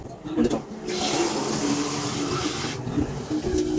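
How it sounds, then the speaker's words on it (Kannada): A jug of water pours into a cooking pot for Maggi noodles, a steady close rushing splash lasting about two seconds, with faint voices and handling sounds before and after. "ಇವಾಗ ನಾನು ಇದಕ್ಕೆ ಒಂದು ಚೊಂಬು ನೀರು ಹಾಕ್ತೀನಿ ಗೈಸ್."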